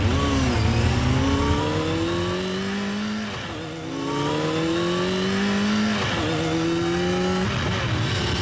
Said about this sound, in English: Ooh, motorcycle.